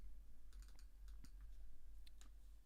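Quiet keyboard typing, a few scattered key clicks and short bursts over a low steady background hum, with no voices.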